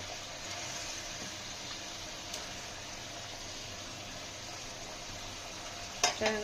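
Pieces of katla fish sizzle and fry in a pan with a little liquid for doi katla, a steady, close hiss of frying with a brief clink of a utensil near the end and no talking.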